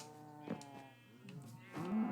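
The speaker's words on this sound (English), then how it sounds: "I guess while we're here, we can go ahead and feed the cows." Cows in Minecraft let out a few low mooing calls, short and fairly faint, heard alone with no talk.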